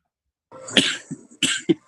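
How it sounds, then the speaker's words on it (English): Two or three harsh, close coughs break out after a moment of silence, each a short raspy burst, with a throaty catch in between. "Said you were coughing for me."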